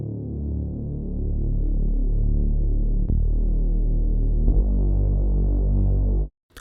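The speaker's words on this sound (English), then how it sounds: "oscillator 3 is going to be the level of the sub in your Reese bass" A steady synthesized Reese bass drone with a deep sine sub underneath, thick and throbbing, held for several seconds before cutting off abruptly.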